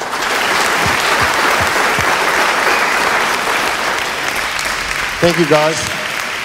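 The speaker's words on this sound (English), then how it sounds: "a very big round of applause" An audience at a business launch event gives a sustained round of applause, a thick, steady wash of clapping, before a voice briefly speaks over it near the end.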